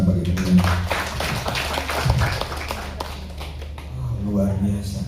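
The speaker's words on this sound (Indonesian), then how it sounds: "Sekali lagi tepuk tangan bagi kalian." A church congregation at a Wednesday worship service claps in an irregular burst of sharp hand claps mixed with voices, loud and close, fading slightly midway.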